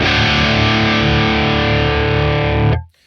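A heavily distorted electric guitar, driven through a pedal into a Revv D20 amplifier, sustains a loud dense chord for nearly three seconds before cutting off abruptly.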